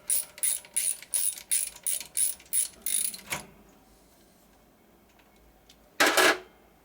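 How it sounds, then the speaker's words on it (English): A ratchet socket wrench clicks in a quick series of crisp, close bursts while parts come off a Dayton 7-1/2 hp 240V shop air compressor, then a pause and one more short burst of clicking. "I've only got a ratchet socket. It's a lot easier to take this stuff off quicker."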